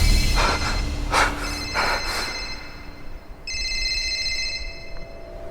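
A telephone rings with repeated electronic trilling bursts, a pause, then a final longer ring, fairly clear with no one speaking.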